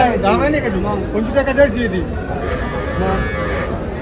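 Cows moo repeatedly amid a busy cattle market crowd in Dhule, with people chattering and calling nearby throughout, the lowing rising over the general hubbub.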